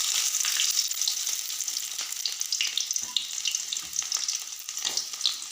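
Onions drop into hot oil with popping mustard seeds in a home kitchen and sizzle loudly, a bright crackling hiss with sputtering bursts and faint stirring clinks, no voices.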